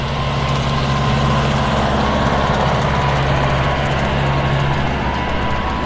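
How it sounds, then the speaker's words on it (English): A beach-cleaning tractor's heavy diesel engine drones steadily nearby on a North Naples beach, a constant low rumble with a faint whine above it, unbroken by talk. "Here comes our tractor sneaking up behind me."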